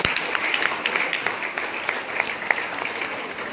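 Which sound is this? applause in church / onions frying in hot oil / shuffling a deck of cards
applause in church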